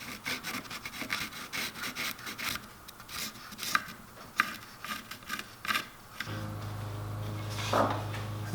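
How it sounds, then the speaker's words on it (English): A hand saw cutting through a wooden tenon on a carved osprey, with close, rhythmic rasping strokes for about six seconds, then a steady low hum with faint handling noise. "Cut off this much of the tenon,"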